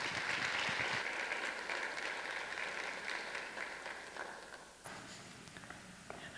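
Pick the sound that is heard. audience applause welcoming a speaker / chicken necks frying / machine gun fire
audience applause welcoming a speaker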